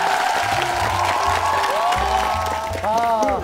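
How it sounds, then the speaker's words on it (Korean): A studio audience on a Korean TV variety talk show gives steady applause while voices talk and exclaim over it for a few seconds. "와, 박수!"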